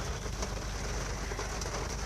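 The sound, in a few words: rain falling outside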